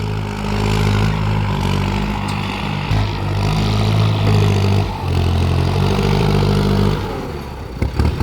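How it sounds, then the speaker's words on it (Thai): A Kubota M-9540 tractor engine pushes and levels soil in Laos, a loud, steady diesel drone with low harmonic rumble that dips and surges under load, briefly easing near the end before revving again. "รถไถมาปรับดินนี่แหละ"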